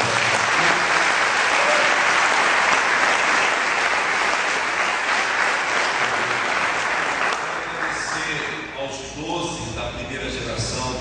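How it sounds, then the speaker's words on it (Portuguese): Congregation applauding during an evening church service, a dense sustained clapping that fills the space, then thins out and tapers toward the end as a few voices and shouts rise above it. "Vamos dar um aplauso a Jesus pela vida."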